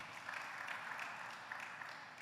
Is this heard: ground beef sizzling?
no